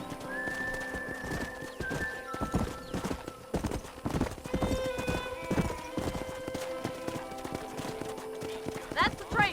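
Horses trotting around a corral in Red Dead Redemption, with busy repeated clip-clop hoofbeats, occasional whinnies, and a whistle and bird sounds in the mix, fairly close throughout.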